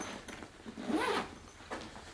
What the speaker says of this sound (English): it has one big zipper pocket that just allows you to open the whole thing up and see everything inside of it